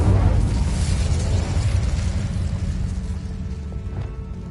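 A fiery spell cast in a wizarding game, a loud whooshing burst of flame that roars at first and then settles into a steady rumbling crackle before fading slightly.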